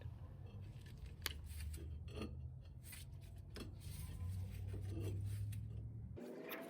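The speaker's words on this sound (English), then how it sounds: "I put an old brake pad there and keep compressing with this C-clamp" A C-clamp being screwed down against an old brake pad to compress a car brake caliper piston, with close creaking, ratcheting and metallic scraping that ends in a short clunk.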